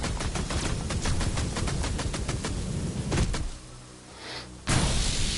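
Rapid repeated shooting in the VR Invaders virtual reality game, a fast steady stream of loud zapping shots that stops abruptly, followed by a quieter whooshing lull and a sudden loud burst at the end.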